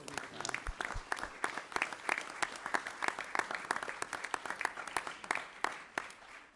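A small audience at a live-streamed event in Lake Forest applauds: steady, dense clapping from several people keeps going for the whole stretch at moderate loudness, with no voices over it.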